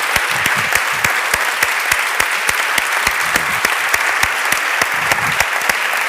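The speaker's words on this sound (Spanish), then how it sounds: "vamos a despedir a Santiago Posteguillo con un fuerte aplauso" Applause from a lecture audience sending off author Santiago Posteguillo, steady and sustained with many distinct sharp claps standing out over dense clapping throughout.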